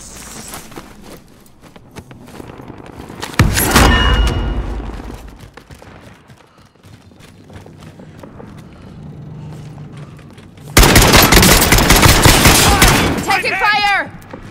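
Video game gunfire: a sharp burst of shots around the middle, then a long dense volley of loud rapid fire near the end, with quieter background rumble and movement noises between.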